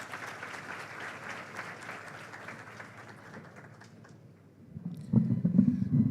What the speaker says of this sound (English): Another warm round of applause to Professor.